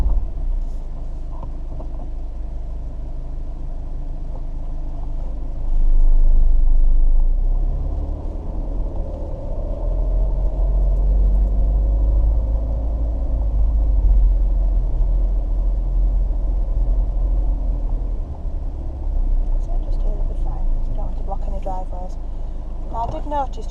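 A car rolls along steadily during a driving lesson, its low engine and road rumble droning continuously inside the cabin, swelling briefly partway through, while people talk over it.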